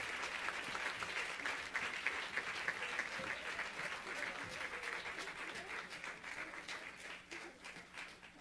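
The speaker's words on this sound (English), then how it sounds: "So, if you could give us a round of applause." An audience at a Bermuda High School live-streamed event applauds, a dense, steady wash of many hands clapping throughout, fading slightly toward the end.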